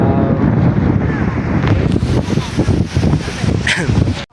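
Strong wind buffets the microphone in a loud, continuous roar with gusty surges, joined by what sounds like surf or water in the background.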